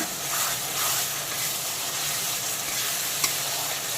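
Kashmiri red chili powder and fine turmeric paste stirred into hot oil with onions in a pan for a fish curry, giving a steady close sizzle and frying hiss with soft stirring scrapes throughout.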